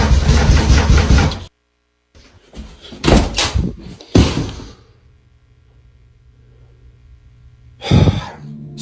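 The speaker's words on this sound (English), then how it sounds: "when he opens the door, there's no one there" Door being opened amid a haunting setting: several loud knocks and thuds in short bursts with gaps of near silence, followed by a low hum and one more sharp bang near the end.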